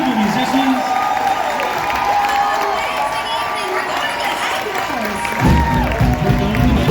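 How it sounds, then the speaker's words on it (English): An outdoor crowd at an Epcot festival Broadway-style performance applauds and cheers for the musicians, with a continuous wash of clapping, shouts and chatter and a louder swell near the end. "Let's give one more big round of applause for these incredible musicians."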